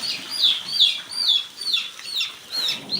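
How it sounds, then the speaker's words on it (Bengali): Colour Bird broiler chicks in a brooding shed, a steady chorus of high peeping calls repeating in rhythmic bursts, close and fairly loud with no talk. "আর এখানে ব্রোডিং চলছে মুরগির বাচ্চা।"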